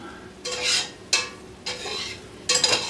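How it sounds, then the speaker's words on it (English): Vegetables for a chicken pot pie sauté in a pan, with several bursts of stirring and scraping over a soft sizzle, close and without talk. "I don't know how long to tell you to saute this stuff"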